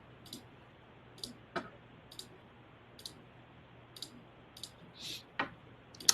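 A computer mouse clicks repeatedly and sharply at irregular intervals, close up and quiet, over faint background hum with no talk.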